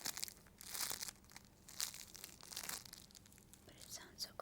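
Crisp, crunchy crinkling as soft foam is squeezed repeatedly, close up and fairly quiet, in irregular bursts with brief pauses between squeezes.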